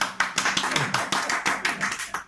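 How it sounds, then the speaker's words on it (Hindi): Audience clapping to welcome Sanjay Kumar at a devotional gathering, a few hands producing sharp, distinct claps at a quick, uneven rhythm, close and fairly loud, stopping at the end. "इनका तालियों के साथ जोरदार स्वागत किया गया।"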